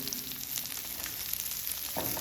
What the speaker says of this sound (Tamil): எண்ணெய் சூடானதும் வெங்காயத்தை போட்டுக்கோங்க.